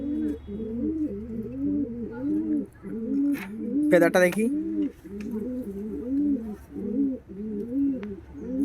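A Pakistani high-flying red-tailed pigeon coos in a steady, repeating rhythm close by, with a brief spoken remark partway through.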